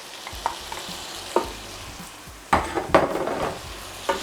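Cooked saltfish stirred in a hot pan hisses steadily beneath repeated spoon scrapes and knocks against the metal, several of them sharp and close, with no talking.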